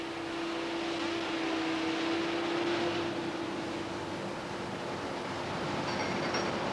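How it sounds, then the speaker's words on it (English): A metal slab is scalped by the hard metal blades of a cutting machine: a continuous, steady industrial roar with a fixed droning tone, loud and unbroken throughout. "Inside the machine is a cutting tool like this. These hard metal blades scalp the slab, producing a swarf waste which is recycled."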